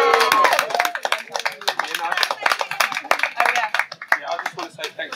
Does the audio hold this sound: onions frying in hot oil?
no